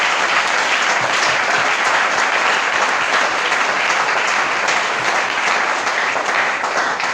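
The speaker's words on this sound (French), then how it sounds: "applaudissons pour la parole" Sustained applause fills a church gathering, dense and steady throughout, with no voices standing out above the clapping.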